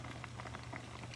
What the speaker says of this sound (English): it's been about 5 minutes, still kind of boiling